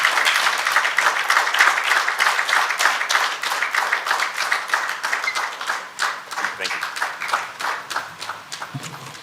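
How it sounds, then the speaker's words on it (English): Audience applause at a leadership talk, dense clapping from a crowd that stays loud and steady, thinning into more distinct individual claps toward the end. "Please don't stop clapping until he gets to his seat."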